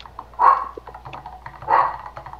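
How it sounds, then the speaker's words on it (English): A dog barks twice in a Bedwars video game, two loud, clear barks about a second apart over a low background of game noise. "Oh my gosh, he's barking again."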